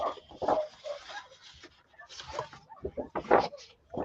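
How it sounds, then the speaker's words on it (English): Several dogs bark and yip indoors during a live fabric sale, in short bursts near the microphone with whimpering sounds between them. "Sorry about the dogs."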